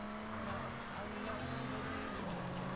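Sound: car driving in video game GTA San Andreas

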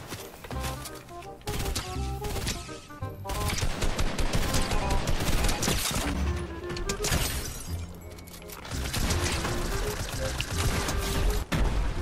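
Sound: gunfire in Fortnite, a video game

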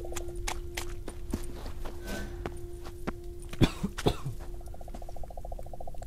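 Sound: character coughing in toxic fumes, from video game The Witcher 3

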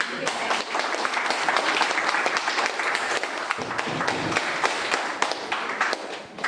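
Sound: audience clapping

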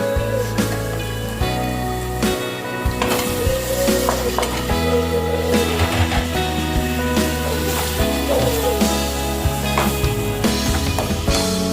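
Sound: onions and tomatoes sautéing in a pan for chicken curry

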